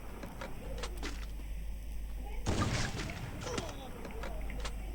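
A single sharp shotgun blast rings out in the Free Fire battle royale game, a short broadband burst about halfway through, set against a steady bed of game ambience and scattered small effects.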